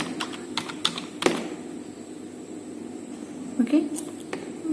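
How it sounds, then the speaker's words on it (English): Fingers type on a computer keyboard while entering a word in Microsoft Word 2010, giving scattered close key clicks in short irregular bursts with a quiet room hum underneath and a voice speaking briefly. "Suppose now I want to type Rocha"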